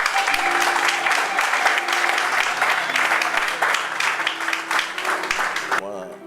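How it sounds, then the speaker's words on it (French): A church congregation claps and cheers in praise, a dense, loud burst of applause with voices mixed in that carries for several seconds and then cuts off abruptly. "Et on peut acclamer le Seigneur pour vous."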